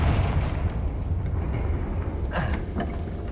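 A Confringo spell in the video game Hogwarts Legacy: a low rumbling boom that settles, then a sharper fiery burst and a brief crackling tail near the end.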